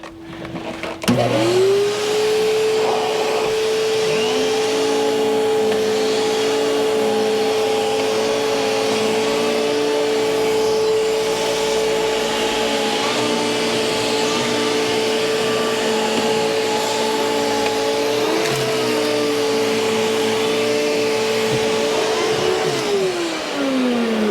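A Hoover Windtunnel S3641 canister vacuum motor, freshly repaired, starts up and runs with a loud, steady whine for about twenty seconds before winding down at the end.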